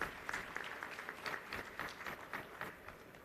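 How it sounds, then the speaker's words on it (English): Faint, steady applause from an audience at a university ceremony, a continuous patter of many hands at a distance with no break. "Please give him a big round of applause."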